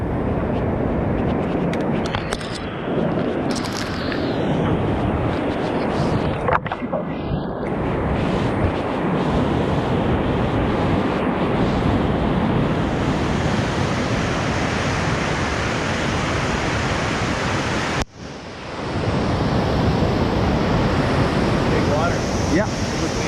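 A river rapid on the Obed River churns in a loud, steady broadband rush of whitewater, close by with wind buffeting the microphone and a brief dropout near the end.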